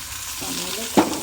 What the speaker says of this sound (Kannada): ಕಡಲೆಬೇಳೆ ಚೆಂದ ಫ್ರೈ ಆಗಬೇಕು ಎಣ್ಣೆಯಲ್ಲಿ